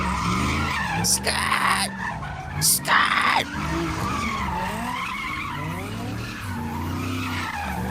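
Cars skid and squeal their tires during a street takeover in Los Angeles, with repeated sweeping screeches and revving engines close by, and a voice shouts briefly over the noise.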